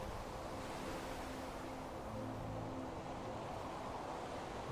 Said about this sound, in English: I do like the ambiance of the waves and the sound